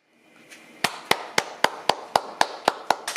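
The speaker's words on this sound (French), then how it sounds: "Fallait pas applaudir." A few people clap together at a mixed-marriage gathering, about ten sharp, evenly spaced claps that start softly and then ring out near and clear, with no talking.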